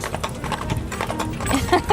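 Horse hooves clip-clopping in a quick, uneven rhythm close by, with a child and an adult talking over them.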